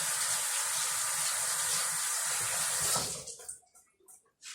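Tap water gushes steadily into a sink while dove meat is rinsed, then the flow stops at about three seconds, leaving a few drips and faint splashes.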